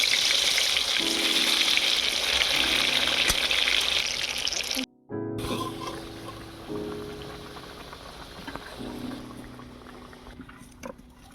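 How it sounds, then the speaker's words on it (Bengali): Potatoes frying in white oil for chicken biryani, a loud bubbling, rain-like sizzle that briefly cuts out midway, then resumes somewhat softer with occasional clinks. "আবারও বাকি আলুগুলো ভেজে নেব"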